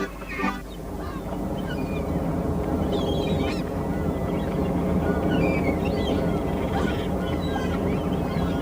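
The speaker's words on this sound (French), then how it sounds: "Une mouette!" Seagulls cry near the sea in an animated cartoon, shrill calls repeating over steady wind and water noise, with the birds sounding fairly close.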